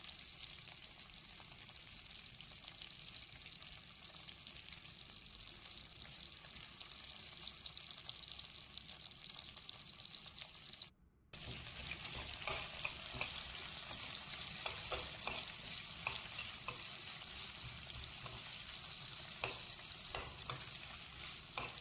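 Sliced onions, green chillies, curry leaves and garlic sizzle in hot tempering oil in a frying pan while being stirred for an Andhra-style ridge gourd curry. A soft, steady frying hiss grows brighter after a brief gap, with scraping stirs.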